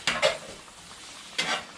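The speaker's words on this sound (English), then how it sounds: "As you peel them, as you stir them, the film starts to stick." A spoon stirring smothered potatoes in a pot and scraping the bottom, two quick scrapes at the start and another about a second later, fairly quiet with no talk.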